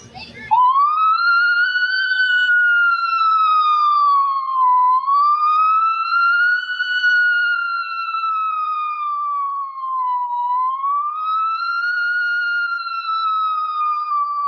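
A voice imitates a fire engine siren, a loud, continuous wailing tone that rises and falls slowly in long sweeps, close and alone for the whole stretch after a brief opening noise.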